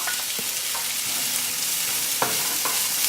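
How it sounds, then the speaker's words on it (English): Onions and garlic sauté in oil in a pan over medium heat, giving a steady close sizzle throughout with a few soft stirring scrapes and clicks. "get started on sauteing up our onions and garlic"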